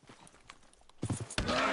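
Horse hooves clip-clop in a video game, soft and scattered at first, then a few louder, closer steps near the end.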